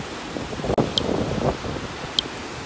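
Wind blows across a beach in North Naples, Florida, a soft, steady rush over the open shore, with a few faint chirps and light rustling and no voices.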